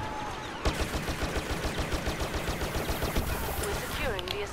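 Gunfire in the video game Star Wars Battlefront, rapid steady bursts of blaster shots in a regular rhythm over a loud battle din, with a voice talking over it.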